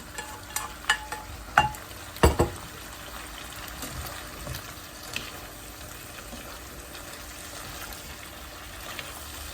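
Sauce goes into a boiling pan and is stirred, with a few sharp splashy clatters early on, then a steady soft sizzle and bubbling.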